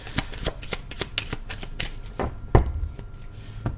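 Tarot cards are shuffled close up in a quick series of crisp riffling snaps and soft taps, with one louder thump near the end. No voice is heard.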